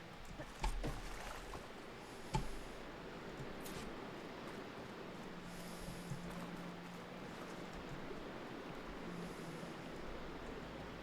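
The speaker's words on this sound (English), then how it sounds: "Aloy, I can hear water in the room again" Water flows and washes into an enclosed room in the video game Horizon Forbidden West, a steady broadband rush with a couple of soft knocks near the start.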